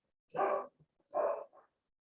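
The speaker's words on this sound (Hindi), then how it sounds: "कुत्ते भी बहुत भौंक रहे हैं" A dog gives two short, loud barks close by. They come about a second apart, and the second trails into a smaller yelp, with silence on either side.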